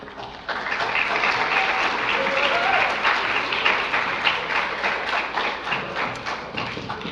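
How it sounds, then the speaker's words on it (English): An audience at a school middle and high school awards ceremony bursts into steady applause, loud and dense from start to finish, with a few thumps and taps mixed into the clapping. "if you would wait until I have finished my comments and then clap"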